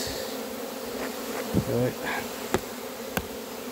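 Honey bees buzz in a steady close hum around a hive, with a few sharp clicks and knocks and a brief spoken word.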